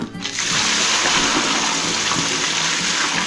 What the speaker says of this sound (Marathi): घेतलं पाणी